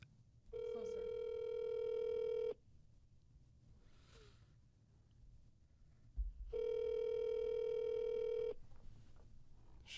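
Telephone ringback tone while placing a call to a relative, two long electronic rings separated by a quiet pause, clear and close.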